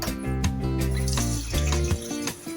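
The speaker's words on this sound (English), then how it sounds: "Then I'm going to rinse it." Tap water runs while raw chicken is rinsed in a kitchen sink, a steady splashing stream broken by several sharp knocks and shifts as the pieces are handled, with a tonal hum underneath and no talking.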